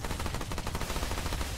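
Gunfire in the video game Remnant II: a rapid, steady stream of close, loud shots firing back to back without pause.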